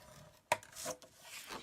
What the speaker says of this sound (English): then we need to score it at 6 3/4.